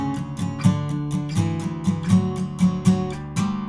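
Acoustic guitar plays the ascending octave riff from a song at a faster speed, a steady run of bright plucked notes with regular accents, close and clear with no voice.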